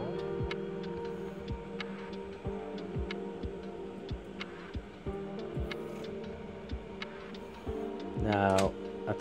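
Voron 2.4 3D printer homing its axes: steady fan hum with regular light ticking, then a brief rising stepper-motor chirp near the end, close by, with no talking.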